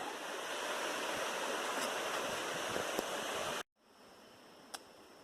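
Flooded Dismal Creek on the Appalachian Trail roars steadily as a broad, loud wash of rushing water, then cuts abruptly to a quieter, more distant flow with a faint tick.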